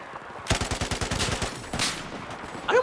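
Rapid gunfire in an online shooter game with snipers on the enemy team, a quick rattling string of shots followed by a second shorter burst, moderately loud with no talk.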